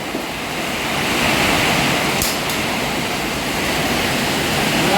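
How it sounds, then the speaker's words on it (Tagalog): Dense, roaring wash of heavy rain driven by strong typhoon wind, loud and unbroken, swelling slightly, with no voices heard. "Lakas po ng ulan tsaka hangin."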